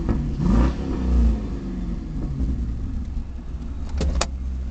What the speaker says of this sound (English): You can hear the nice rumble of that 4-liter exhaust.